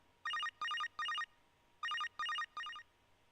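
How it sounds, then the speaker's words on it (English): Message alert on a cell phone in the video game Psycho-Pass: Mandatory Happiness, six bright electronic ringing bursts in two groups of three, clear and alone over a quiet background. "I received a message on my cell."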